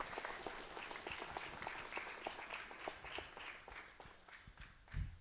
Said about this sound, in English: let's give Kenna another round of applause